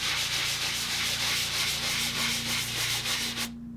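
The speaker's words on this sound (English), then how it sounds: "So just lightly sand around the edges." Sandpaper lightly rubbing around the edges of a repaired ceiling crack, a steady close scratchy rasp in rhythmic strokes that runs unbroken for several seconds and then stops abruptly.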